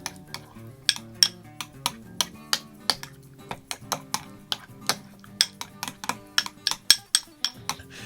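A spoon clinks steadily against a bowl while stirring a mayo, horseradish and jalapeno sauce thinned with apple cider vinegar, with sharp, evenly spaced taps close up and no talking.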